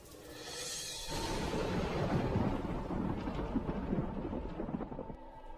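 Thunderstorm at night with a loud rumble of thunder breaking in and continuing over steady heavy rain and wind, close and dense throughout.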